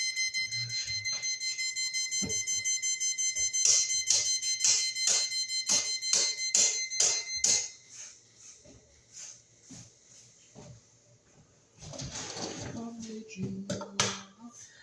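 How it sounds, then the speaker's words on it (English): A smoke detector's shrill electronic low-battery alarm beeps in a regular series of short tones, then stops, followed by faint rustling and a brief voice. "Oh, we need a battery for the smoke detector."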